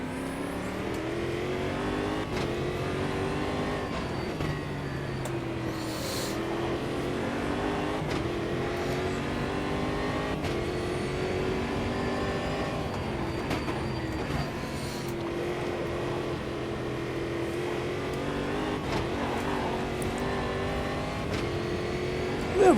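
A race car engine in the Automobilista 2 sim racing game revs and drones steadily, with rising and falling pitch as it accelerates and shifts, loud and continuous throughout.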